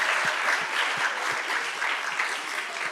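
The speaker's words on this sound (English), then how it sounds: "Let's still clap for them." Participants in a team points game at a family gathering keep up a sustained round of clapping, many hands patting evenly and fairly close, with no voices rising above it.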